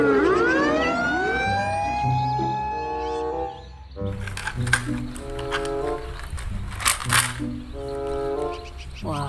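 A loud fire engine siren wails, sweeping up and down, then gives way to a busier stretch of rising tones and clattering noise.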